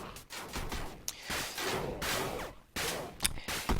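A submachine gun fires in Zombie Party in rapid bursts of harsh shots separated by short gaps, loud and close, with no talking.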